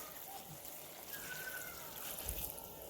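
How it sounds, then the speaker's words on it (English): Hot water pours steadily into a pot of ground beef and cabbage soup, a soft continuous trickling splash lasting a few seconds at close range in a home kitchen. "And to this, I'm going to add 2 cups of hot water."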